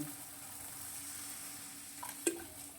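Spiced oil and poppy-seed paste sizzle steadily in a pan for a Bengali fish curry, with a soft hiss throughout and a brief splash and clink near the end as a little water goes in.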